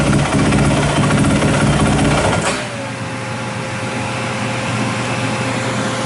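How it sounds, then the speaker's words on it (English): A 2006 Yamaha WR450F's loud engine clatter cuts out abruptly, leaving the Trail Tech radiator cooling fan whirring on alone in a steady, even hum. "Fan's still running."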